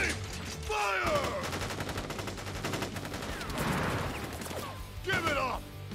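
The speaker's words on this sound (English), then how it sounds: "Ready, aim, fire!" A volley of soldiers' rifle fire in the Crisis Core Final Fantasy 7 game, a dense burst of rapid shots over about a second, set amid shouted voices, loud game music and other battle effects.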